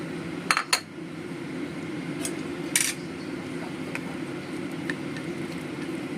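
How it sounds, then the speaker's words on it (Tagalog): Sliced bitter gourd (ampalaya) is stirred into beaten egg in a bowl, giving a few sparse utensil clinks against the bowl over a steady low kitchen hum. "Then we will mix the ampalaya."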